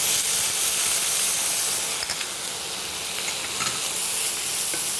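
A steady sizzling hiss of onions and tomatoes sautéing in a pan, with faint occasional clinks, no voices.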